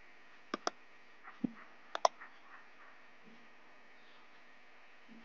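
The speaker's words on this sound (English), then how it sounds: "Now I will just right click over here and I will click on start." Sharp computer mouse clicks, single and doubled, ring out alone against a quiet room hum while a virtual machine is being set up and started, with a louder click burst at the very end.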